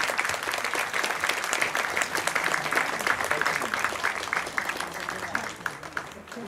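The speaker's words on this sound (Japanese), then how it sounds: "大きな拍手をお願いしたいと思います。" Audience applause after an elementary school children's lion dance performance in 2022, a dense, lively burst of clapping from a crowd that holds steady and then eases slightly toward the end.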